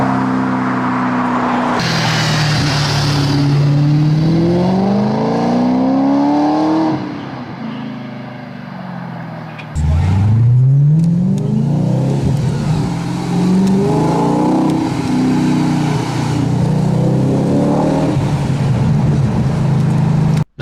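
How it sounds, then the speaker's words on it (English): Audi RS4 B7 with a 4.2-litre naturally aspirated V8, revving hard through rising sweeps that climb, cut and climb again, loud and close with a short lull in the middle. "the whole naturally aspirated experience of a high revving V8"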